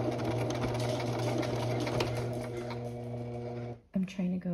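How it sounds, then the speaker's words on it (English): A sewing machine stitches down a fabric placket, running in a steady, close whir with a rapid needle rhythm, then pausing and restarting in short bursts near the end. "Now I'm gonna carefully sew down"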